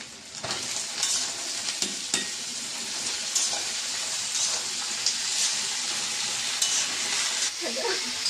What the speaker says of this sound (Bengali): দেখো এখানে রান্না হচ্ছে